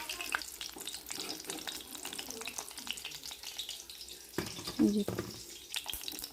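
Fish roe fritters frying in hot oil, a steady close sizzle with occasional clinks and scrapes of stirring and lifting the fritters out, while a voice talks faintly underneath.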